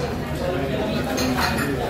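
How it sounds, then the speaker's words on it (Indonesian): A spoon clinks against a bowl while coto Makassar soup with sambal, soy sauce and lime is stirred at an Indonesian street food stall, a few quick metallic taps close by over background noise. "Kita aduk-aduk dulu."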